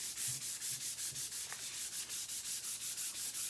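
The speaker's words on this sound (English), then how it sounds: "So here's how you scuff sand, okay?" Close, steady back-and-forth strokes of hand scuff sanding on a piece of furniture before painting, about two rubbing passes per second in an even rhythm, with no voices.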